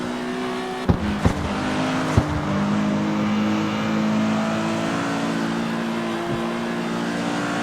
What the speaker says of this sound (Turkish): Harbiden çok iyi turbo sesi.